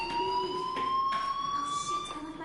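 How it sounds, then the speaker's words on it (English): A building fire alarm rings as a continuous, steady electronic tone with bright overtones. It holds a fairly constant loud level for the whole stretch, with no speech. "Hey, do you hear that fire alarm?"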